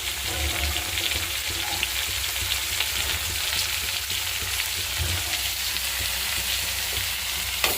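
Spiced masala frying in a pan on a gas stove, a steady close sizzle with occasional stirring clatter running throughout without talk.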